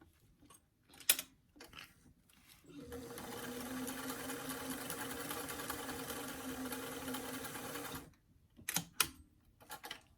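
A sewing machine stitching a quarter-inch seam on doll hat fabric, a steady whirring run of about five seconds framed by short handling clicks and thumps before and after.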